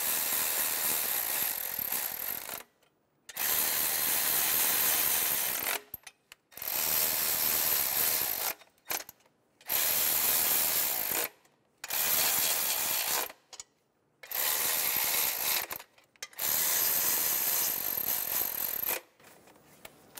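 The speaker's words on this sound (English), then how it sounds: "Go around snugging down the bolts." A ratchet wrench snugs down bolts on a 2003–2007 Honda Accord engine during a knock sensor replacement: repeated bursts of rapid, close clicking, each lasting a couple of seconds, separated by short silent pauses.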